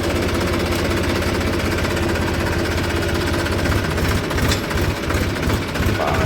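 A tractor that has slid down and got stuck, its engine labouring with a loud, steady, throbbing drone that continues throughout. Voices are faintly present beneath it.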